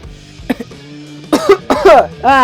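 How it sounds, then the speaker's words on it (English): A few throat-clearing hacks give way to a run of harsh, raspy coughs, close and loud, growing more strained toward the end. "Coughing fit."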